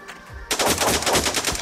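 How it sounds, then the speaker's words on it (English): A burst of rapid assault rifle gunfire in the blocky online shooter Blockpost, starting abruptly after a short lead-in and hammering on loud and close for over a second. "I just pulled off an excellent shot with the assault rifle cross map."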